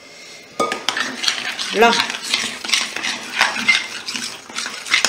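A spoon stirs a speculoos tiramisu mixture in a bowl, with close, busy clinking and scraping against the sides and a single short word spoken near the middle.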